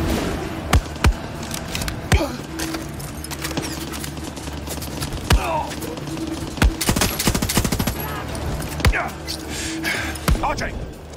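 Gunfire and a grenade blast in the video game Far Cry 6: sharp, repeated shots at irregular intervals ring out over a rumbling battle backdrop with voices underneath.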